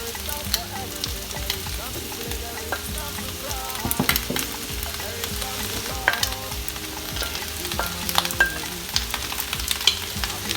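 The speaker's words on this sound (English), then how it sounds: "And look for the sizzling." Onions and bell peppers sizzle steadily in a hot pan for a gizzard stir-fry, with a continuous crackling fry and occasional scraping stirs, close and fairly quiet.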